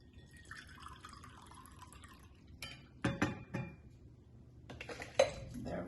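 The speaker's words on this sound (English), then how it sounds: "I'm going to add a cup of water to help things move" A cup of water poured into a blender jar while making a creamy vegan shahi paneer, with clinking and splashing bursts after a quiet start, close by and fairly soft.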